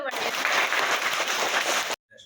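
Loud, steady applause at a school event in a trust's sports-equipment donation program for underprivileged children, a dense crowd of clapping that runs for about two seconds before cutting off sharply.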